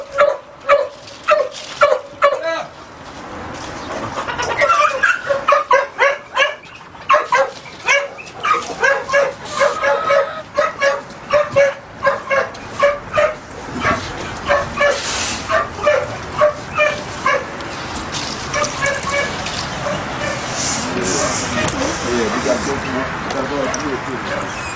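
Pit bull dogs bark in quick repeated yips and whimper nearby, loud and continuous, with people talking over them.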